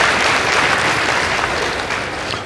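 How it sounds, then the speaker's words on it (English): Studio audience at a high school quiz show clapping for both teams, a dense, steady burst of applause that fades slightly toward the end. "Give both teams a round of applause."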